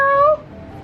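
A single short, clear meow from a cat, close and loud, lasting about a third of a second before fading into quiet.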